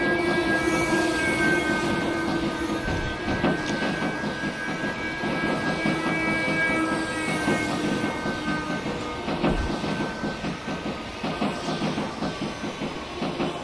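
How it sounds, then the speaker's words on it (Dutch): An ICM 'turbo' passenger train rumbles past continuously, wheels clattering steadily over railway switches with a broad, sustained roar and some higher tonal whine, close and loud throughout. "En de turbotrein op die wissels heen."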